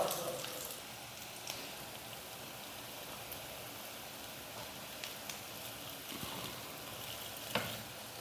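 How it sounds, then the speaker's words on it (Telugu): Sweet potato mini cakes frying in oil, a soft steady sizzle with faint taps and scrapes as they are turned. "ఇలా ఫ్రై చేసుకుంటా ఇలా మనం ఇలా తిప్పుకుంటూ ఉండాలి."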